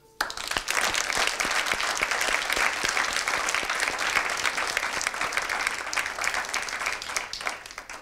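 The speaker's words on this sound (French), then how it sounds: "Et cela mérite notre admiration et surtout nos applaudissements" A graduation ceremony crowd applauds the graduates, steady and full clapping that holds at an even level throughout before easing slightly at the end.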